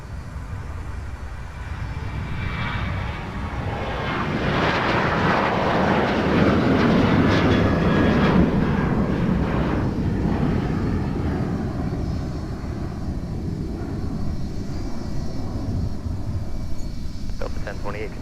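An airliner taking off from runway 30 left at MSP airport on a muggy winter day: a loud, broad jet roar that swells and holds, then slowly fades, with radio chatter underneath.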